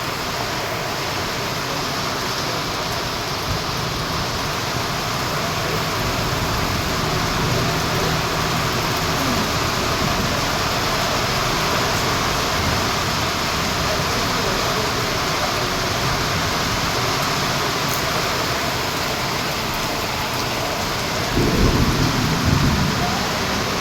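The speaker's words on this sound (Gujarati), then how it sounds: "અત્યારે વરસાદ ફૂલ ચાલુ છે" Heavy rain pouring down in Madhya Pradesh in a constant dense hiss, loud and close throughout, with a brief louder rumble near the end; a voice speaks faintly underneath.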